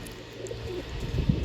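Bathing pigeons coo softly and low over faint background noise, a few murmuring calls close by.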